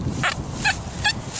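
Metal detector target tones at a reading of about 85 to 88, four short warbling beeps at a steady rhythm, loud and close, with no talking.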